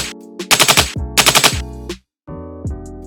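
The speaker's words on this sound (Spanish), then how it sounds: "es un sample de un arma." Gunfire sample in short rapid bursts, two quick volleys of machine-gun-like shots, then a brief silence and a lone trailing shot, sharp and loud.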